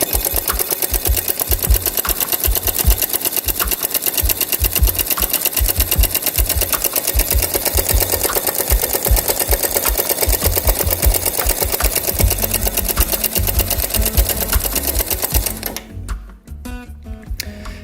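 A homemade solenoid engine with a flywheel runs close by, a loud fast rattling clatter of rapid mechanical ticks held steady for about fifteen seconds before it stops and a few slower knocks follow.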